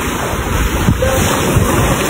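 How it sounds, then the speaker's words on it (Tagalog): Strong ocean waves rush and churn close by, with steady wind buffeting the microphone throughout, a continuous roar with no clear individual breaks. "Lakas ng alon, guys, oh."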